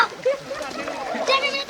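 Water thrown in hurried splashes at a fish-catching scene, wet splatters and sloshing mixed with overlapping shouting voices throughout.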